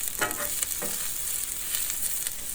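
Onions frying on a hot griddle, a bright steady sizzle with a few scraping stirs and spatula taps near the start, close and fairly quiet with no voices.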